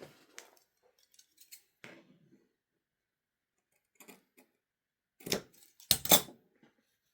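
Scissors trimming excess apron fabric, a quiet room with short scattered snips and then a couple of longer, louder crisp cuts near the end.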